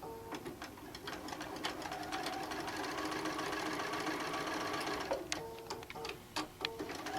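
A sewing machine stitches a rod pocket onto the back of a quilt panel with a long stitch, running steadily at close range for most of the span, then slowing into a few short bursts near the end.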